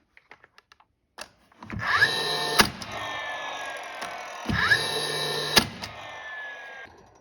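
A pneumatic nail gun drives nails into wood: a few light clicks, then two loud sharp shots about three seconds apart, each with a rising hiss and thump, close and alone.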